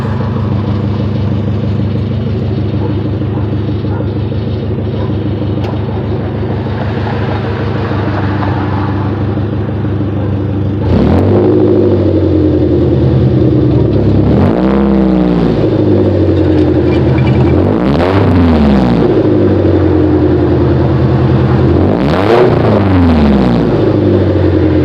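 A Nissan 240SX with a KA24DE engine idles steadily, then its exhaust blips through several sharp revs that rise and fall, loud and close, with no talk.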